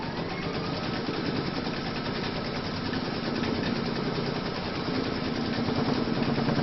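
An embroidery machine stitches a stipple fill round, running a fast, steady mechanical whir with a rapid needle chatter, close and continuous throughout, with no one speaking.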